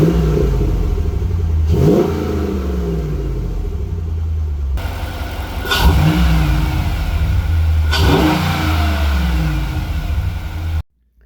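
A 2007 Jeep SRT8 engine with a Mopar cold air intake revs hard in several bursts, each rising then falling back to a steady idle rumble, loud and close, ending abruptly.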